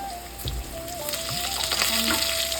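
Potatoes coated with turmeric fry in hot oil in a pan, a steady close sizzle with occasional scraping stirs and small clinks.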